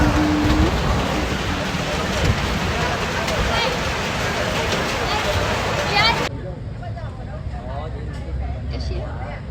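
Rain pours steadily over Hanoi's train street, a dense close hiss with murmuring voices beneath, then the downpour abruptly fades to a quieter patter with distant street noise.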